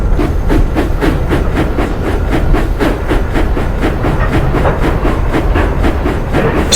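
Rhythmic rumbling and clanking of railway wagons being shunted over track joints, a steady repeated beat under a continuous loud, noisy rumble.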